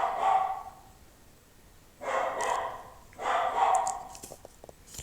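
Dogs bark indoors in the background in three separate bursts, each a cluster of loud, echoing barks, with quieter gaps between.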